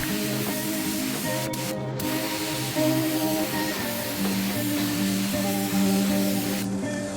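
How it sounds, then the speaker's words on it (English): A spray gun lays epoxy primer onto a car part, giving a loud, close, continuous hiss that holds steady for the whole stretch, with nothing else heard. "I'm gonna go ahead and try to shoot one part with epoxy real quick"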